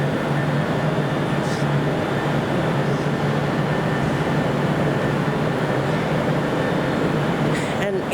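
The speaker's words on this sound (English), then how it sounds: "this is the train I'll be travelling on back towards London Euston" Train standing at Glasgow Central station, bound for London Euston, giving a loud steady engine and ventilation drone with a low hum in a large echoing station hall.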